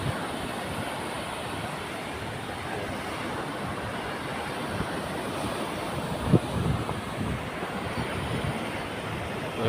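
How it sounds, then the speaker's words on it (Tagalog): Strong surf rolling onto a sandy beach at Bantayan, a steady broad wash of waves with wind buffeting the microphone, continuous and fairly loud with one brief louder bump partway through. "Lakas ang alon."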